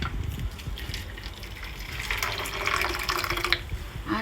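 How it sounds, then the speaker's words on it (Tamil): Hot water poured into a bowl of finely grated radish, a steady splashing gush that swells toward the end, close by with no talking. "சுடுதண்ணி ஆட் பண்ணணும்."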